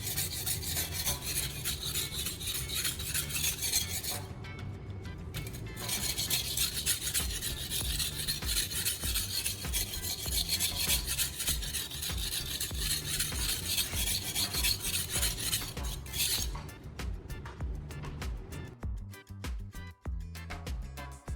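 A knife blade is drawn steadily across a sharpening stone, honing a fine burr on both edges. A continuous, loud rasping scrape fills the clip, softening briefly near the end.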